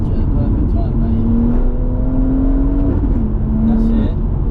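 A BMW M140i with a stage 2+ tuned B58 straight-six engine revs hard from inside the car, rising steadily in pitch before a sharp upshift drops it, loud and close, with brief talk.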